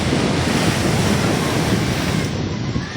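Strong sea waves crash on a shore in rough weather that keeps fishing boats from going out, with a continuous loud roar of surf and wind noise that does not let up.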